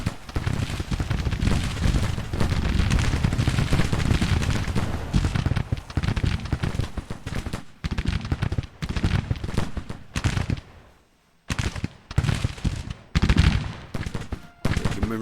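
Cannon and rifle fire in a Civil War battle video game form a dense, continuous roar of overlapping shots and booms. Separate volleys and blasts follow, spaced by brief lulls, with one near-silent gap before the firing resumes.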